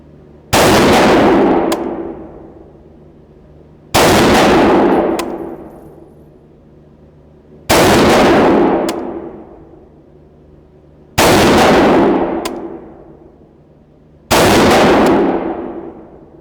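Five loud, evenly spaced rifle shots from a PTR Industries HK-pattern rifle fitted with a red dot sight ring out at an outdoor range with 100-yard targets, each crack followed by a long rolling echo that fades before the next.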